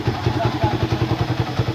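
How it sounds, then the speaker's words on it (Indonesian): A ported Yamaha Vixion motorcycle engine idling nearby with a steady, lumpy pulsing beat and a rough mechanical chatter, held at an even level. "kita test ride dulu ini motor ya"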